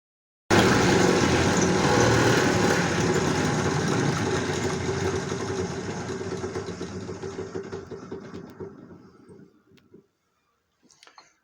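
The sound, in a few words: sanding wood on a makeshift sander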